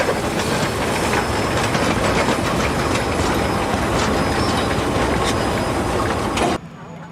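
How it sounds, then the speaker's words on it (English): An empty westbound coal train rolls down a steep grade from Arthur's Pass, loud wheels clattering and rumbling steadily over the rails for several seconds before the sound drops away abruptly. "An empty westbound coal train descends the line from Arthur's Pass down a steep grade"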